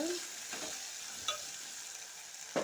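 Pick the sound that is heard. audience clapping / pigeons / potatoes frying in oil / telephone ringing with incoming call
potatoes frying in oil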